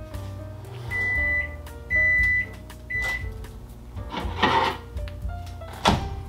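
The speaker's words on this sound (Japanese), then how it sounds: "レンチンしていきましょう。" A microwave oven heating at 600 watts hums steadily in bursts, punctuated by beeps, a door thunk and clattering handling sounds close by.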